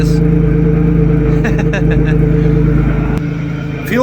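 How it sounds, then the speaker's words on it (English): A supercharged Daewoo Matiz idles with a loud, close, steady exhaust drone and a rhythmic throb, then the engine note drops sharply near the end, leaving a quieter hum. "the exhaust does sound very good"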